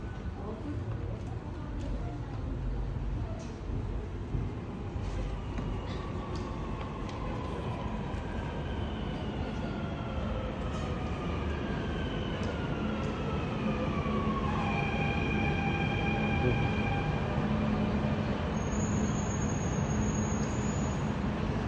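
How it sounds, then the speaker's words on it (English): A train rumbles and screeches as it rolls into a station, wheels squealing in long rising and falling tones, with a platform announcement voice in the background. "The train to Creek will arrive at platform 2."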